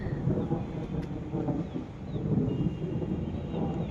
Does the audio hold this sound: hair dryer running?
no